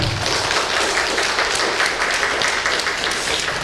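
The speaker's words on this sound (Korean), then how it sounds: "박수 한번 드리겠습니다" A church congregation applauds during a service, a steady, dense wash of clapping from many hands that holds evenly throughout without a break.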